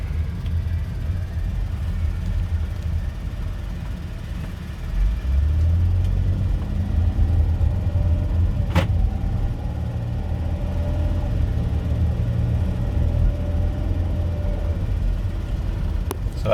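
A 2010 Chrysler Town & Country minivan with a 3.8L V6 and 55k miles cruises in fourth gear, its steady low engine drone and road rumble filling the cabin continuously, swelling slightly midway, with no talk.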